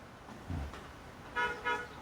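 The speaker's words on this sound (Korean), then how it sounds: "봐요. 저렇게 빵빵 하잖아요." Car horn honking outside, two short toots near the end heard at moderate distance over a low background hum, with a faint thump earlier and no voices.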